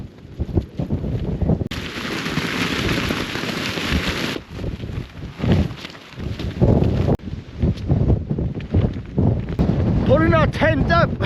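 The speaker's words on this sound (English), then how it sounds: "The wind's strong at the moment, but I'm expecting it to die down in a couple of hours." Strong gusts from the tail end of Storm Darragh buffet the microphone at a wild campsite, roaring and fluttering loudly in uneven surges, with a voice heard briefly near the end.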